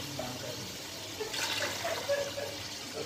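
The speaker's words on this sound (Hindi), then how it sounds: "अब मैं इसमें 6 गिलास जो है ये पानी डाल दूँगी।" Water poured from glasses into a pot of rice for mutton pilao, a steady splashing pour that swells in the middle before easing off, fairly quiet and close.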